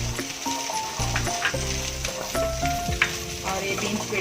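Vegetables fry and sizzle in a pan for a Veg Kolhapuri, with a constant crackling hiss and intermittent scraping as they are stirred, all close up.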